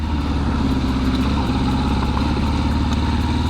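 Kawasaki Z650 motorcycle engine running steadily while riding through the gears, a loud, constant mid-pitched drone with pulsing rhythm close to the microphone, no talk.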